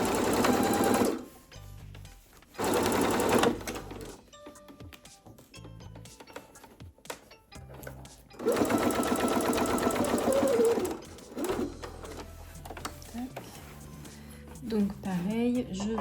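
A sewing machine runs in several steady bursts while stitching the back piece and gusset seam of a child's school satchel, pausing between runs as someone talks quietly over the gaps.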